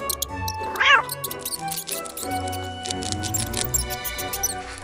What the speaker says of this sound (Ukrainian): Сміло вгору хвіст підняв і промовив гордо: «Мяу!»